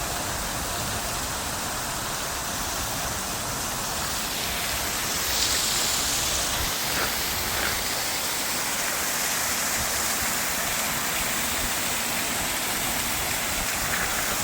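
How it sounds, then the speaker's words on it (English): A garden waterfall at Zilker Botanical Garden in Austin, Texas, gives off a constant, even rush of falling water, dense and unbroken throughout with no voices over it. "Waterfalls."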